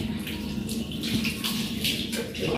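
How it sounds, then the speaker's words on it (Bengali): Water running and splashing while a gas stove is washed, a steady close rush with uneven sloshing bursts over a low background hum. "গ্যাসটা আমি একটু ভালো করে ধুয়ে নিই, কত নোংরা বসে থাকে এর মধ্যে"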